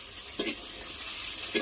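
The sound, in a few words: tempering spiny gourd vegetable in hot pan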